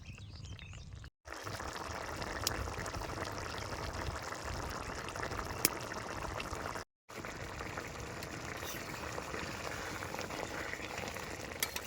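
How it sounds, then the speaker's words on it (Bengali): A village-style curry of green tomatoes and small fish simmers in a pot, giving a faint, steady bubbling and sizzle that runs continuously apart from two brief dropouts. "আমি আরেকটু জাল দিয়ে ঝোলটা একটু শুকনো করে হলাম"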